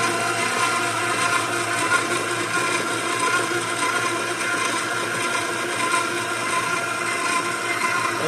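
An electric mixer beats flour, baking soda and salt into chocolate chip cookie dough with a loud, steady motor whir and grinding rasp that holds evenly throughout.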